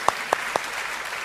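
A TV debate studio audience welcomes two debaters with a few sharp, separate claps standing out over a low, steady room wash, quickly settling.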